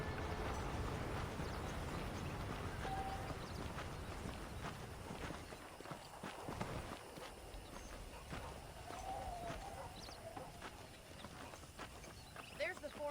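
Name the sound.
horse hooves in Red Dead Redemption video game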